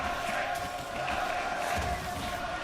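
A large esports arena crowd at a League of Legends LEC Summer Split match cheers in a steady broad roar, fairly loud and continuous beneath a caster's voice.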